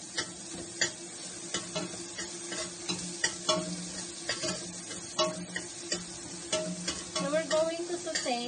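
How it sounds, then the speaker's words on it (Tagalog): Garlic sautéing in a pan, a steady close sizzle broken by frequent scraping stir strokes and small clicks of the utensil, with no talking. "So, we're going to saute until slightly brown."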